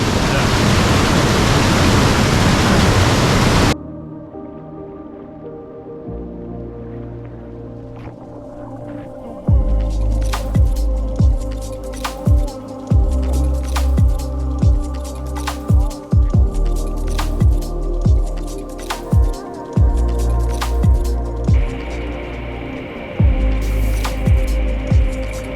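A waterfall on a hike gives a loud, dense, rushing roar for a few seconds, then cuts off abruptly. Tonal, music-like sounds and periodic low thumps follow.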